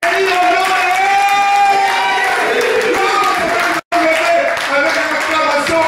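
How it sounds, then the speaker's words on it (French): Church congregation cheering and acclaiming, loud crowd shouts and held voiced cries mixed with clapping, continuous apart from a momentary cut. "Lèvons-nous des acclamations."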